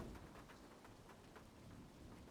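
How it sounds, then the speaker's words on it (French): Rain falling in a Roblox video game, a faint, steady patter of drops with a continuous hiss, no voices over it. "Quand est-ce qu'il a commencé à pleuvoir?"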